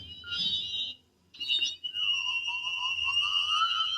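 High-pitched electronic whistling tones from a Volta HPT 1 hearing aid, a feedback squeal that cuts out briefly, then returns as a sustained shrill whine with a lower wavering tone.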